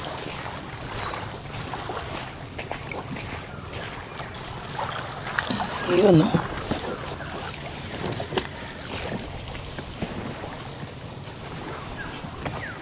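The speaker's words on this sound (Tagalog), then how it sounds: "Dito tayo sasakay ng bangka at ito yung bangka na sasakyan natin." A boat ride on the water at an island resort in Camarines Sur, with steady motor and water noise throughout, a brief splash or surge midway, and a voice speaking a few words.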